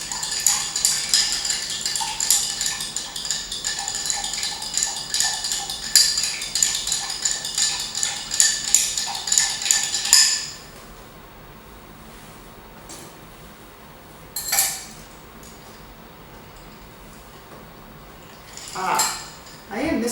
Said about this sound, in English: we're actually going to stir this in the mixing glass